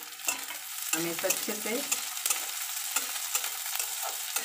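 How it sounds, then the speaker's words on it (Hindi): Chopped onion, ginger, garlic and green chili fry in a pan with a steady sizzle, stirred by a utensil that scrapes and clacks rhythmically, while a voice speaks briefly. "गुलाबी होने तक भूनना है।"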